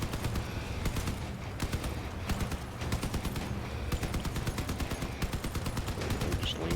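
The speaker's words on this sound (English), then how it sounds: "I'm just laying down some strafing fire" Strafing gunfire from a vehicle in the Crossout game: rapid, regular shots crack close and loud over a steady low rumble. The bursts run almost without a break, pausing only briefly.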